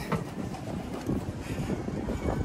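Strong wind buffeting the microphone, a constant low rumble with gusty surges throughout and no voices.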